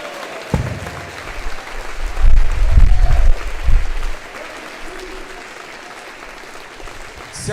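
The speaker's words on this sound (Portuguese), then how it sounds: "Bate palma e aplaude a Jesus" Church congregation clapping and applauding, a crowd's applause swelling with low rumbling bursts in the middle, then fading to a softer, diffuse background.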